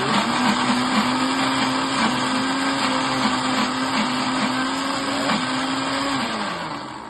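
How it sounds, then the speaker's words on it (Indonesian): A kitchen blender whirs steadily as garlic is blended into a sauce, a loud continuous motor drone heard close up that slows slightly near the end, with no talk. "lalu blendernya kita nyalain lagi"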